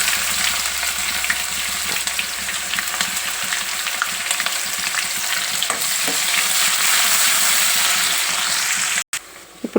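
Chopped onions with dried red chillies and curry leaves fry in a pan for a fish curry, a steady loud sizzle running throughout before cutting off briefly near the end.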